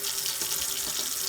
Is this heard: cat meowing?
no